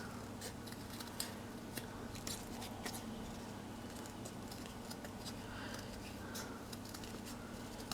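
Scissors snipping paper or card to cut a small rectangle for a handmade miniature table, a steady run of quiet, close clicks and snips over a faint background hiss.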